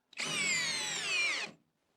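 A Hyper Tough brushless cordless drill spins at high speed in a torque test, a loud, close whine about a second and a half long that slightly falls in pitch before stopping abruptly.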